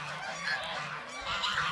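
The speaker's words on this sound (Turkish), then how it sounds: "Evet, kazlar şu an barınağa gidiyor." Farm geese honk repeatedly as the flock heads back to its shelter in the evening, several overlapping honks at moderate distance.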